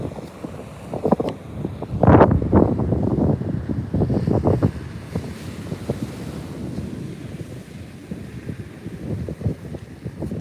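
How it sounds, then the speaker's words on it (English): Strong wind gusts roar across a New York City beach with crashing surf, buffeting the microphone in loud bursts that rise and fall, with no voices. "I know the wind's bad"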